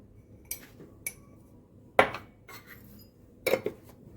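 Metal utensil clinking against a bowl while egg and black pepper are stirred into a chicken mixture, with several sharp, separate clinks and scrapes spaced irregularly, close and fairly quiet.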